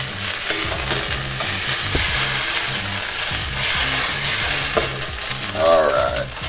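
Shrimp frying in butter in a pan, a loud dense sizzle with rhythmic low thumps and scrapes throughout and a rising whistling tone near the end.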